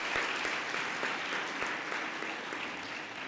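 Audience at a May university graduation ceremony gives a warm round of applause, a thick, continuous crowd of clapping hands with a few sharper individual claps standing out.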